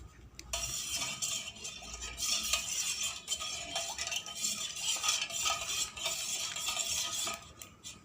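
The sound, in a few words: stirring pani puri powder into water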